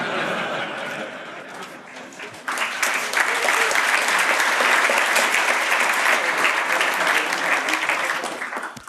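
An audience breaks into applause, starting moderately and swelling sharply into a dense, loud, sustained round of clapping that runs nearly to the end before easing slightly.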